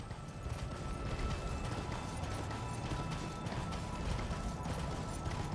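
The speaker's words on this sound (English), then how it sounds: "I hear footsteps." Footsteps in the video game Elden Ring, a rapid, steady clip-clop of hooves or feet on snow, moderately faint and continuous with metallic clatter layered over it.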